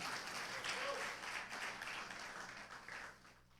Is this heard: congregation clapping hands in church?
yes